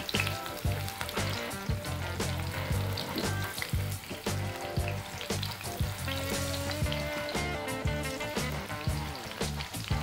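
Six fish pieces fry over low flame in ghee with curry leaves for a masala fish fry, a steady close sizzle with crackling pops running throughout, no talk.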